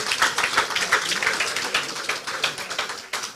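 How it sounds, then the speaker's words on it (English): An audience at a leadership lecture marking a Nigerian birthday celebration breaks into steady, dense applause, many hands clapping quickly and continuously at a fairly loud level throughout. "Please, another round of applause for him."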